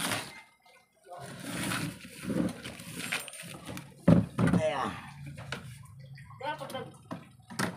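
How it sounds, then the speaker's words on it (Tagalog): Water is poured into a container during a home repair service call, splashing in short bursts amid ongoing conversation nearby. "Sige, lagyan natin ng tubig."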